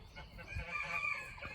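Large fowl chickens cluck and a rooster calls in a brief, moderately loud burst of farmyard sound, with no one talking.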